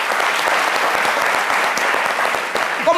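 An audience on a midday French-language broadcast bursts into steady, dense applause, many hands clapping continuously for about three seconds, loud and close, with no voices over it.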